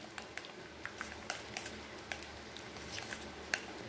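Tandoori chicken marinade worked by hand in a bowl, with faint, wet squelching pats and squishes repeating irregularly about every half second over a quiet background.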